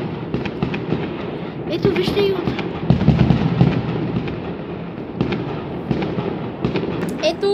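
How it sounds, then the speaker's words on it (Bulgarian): New Year's Eve fireworks bursting continuously at moderate distance, a dense crackling and popping barrage with occasional sharper bangs, while a person talks excitedly over it. "адски много заря има"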